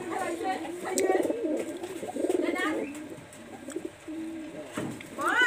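A Royal Teddy pigeon, a Pakistani highflyer, repeats low rolling coos close by, several bursts across five seconds, with someone talking over parts of it.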